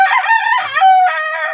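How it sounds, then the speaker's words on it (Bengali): A rooster on a small hobby farm crows loudly at close range, one long drawn-out call with no talk over it. "আপনার এই মোরগটা কেন এত ডাকাডাকি করে"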